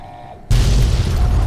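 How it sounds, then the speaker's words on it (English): A heavy explosion booms suddenly in the Fallout New Vegas Lonesome Road game after a brief quiet lead-in, a loud deep blast that rumbles on afterward. "Well, there's still explosions going on."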